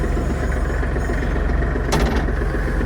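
A Kubota GL-25 mini tractor's diesel engine runs at a steady idle, a continuous close low rumble with a faint click near the end.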